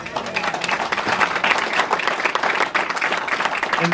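Political event audience in Macomb County claps and applauds steadily throughout, a dense, sustained wash of hand claps from a crowd in a hall with no pauses.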